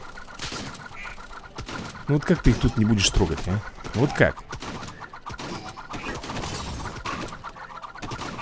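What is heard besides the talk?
owl enemies in the video game Swamp Attack 2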